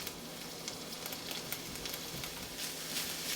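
Chicken sizzles steadily in a pan on the stove, a soft, continuous crackling hiss with small pops, heard alone.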